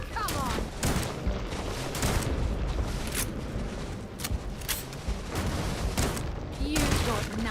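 Shotgun blasts from the video game Starfield, a loud, dense run of repeated gunfire bursts spread across the whole stretch, layered with game effects and voice.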